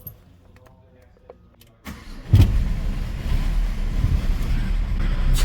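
A VW T4 Karmann motorhome engine cranks and starts after a few quiet clicks and rattles, then settles into a steady, close idle that runs to the end with a low rumble.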